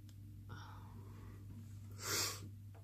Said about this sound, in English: So I do apologise for the sniffling.